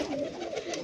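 A pigeon coos softly, a brief low throaty burble heard alone and faintly at close range.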